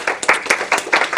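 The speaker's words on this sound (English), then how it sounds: "So let's give Katrina a big clap." Brief burst of audience clapping for Katrina at a community gathering, a handful of distinct, fairly close claps in an uneven rhythm with no other sound.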